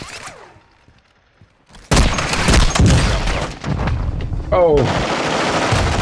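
Gunfire in Call of Duty: Modern Warfare II: after a quiet stretch, loud close bursts of rapid automatic fire erupt and continue, with a player's brief exclamation.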